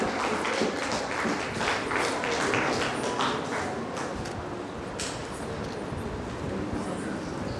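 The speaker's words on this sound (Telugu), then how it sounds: "చప్పట్లతో గట్టిగా అభినందన తెలియజేస్తున్నాం సార్" A crowd at a felicitation meeting claps steadily and densely for the state president, a continuous wash of applause that stays fairly even before fading slightly toward the end.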